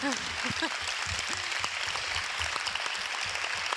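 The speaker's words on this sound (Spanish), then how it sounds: "Un gran aplauso." Steady applause from an audience at a talk on the Spanish dubbing of Harry Potter, continuous clapping throughout with a voice speaking over it briefly at the start.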